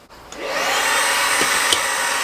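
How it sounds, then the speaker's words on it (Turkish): A household vacuum cleaner starts up with a rising whine and settles into a loud, steady roar while cleaning a dressing room. "Bir de süpürgeyle süpüreceğim şimdi."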